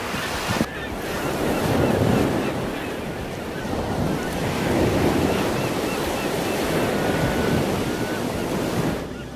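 Surf rolling onto the sugary beach along the Emerald Coast at Destin, a steady wash of breaking waves with wind buffeting the microphone throughout, swelling and easing in broad surges without any voices.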